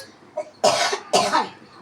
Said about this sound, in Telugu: నేను తినకముందే నాకు దగ్గు వచ్చేస్తుంది నాటుగా.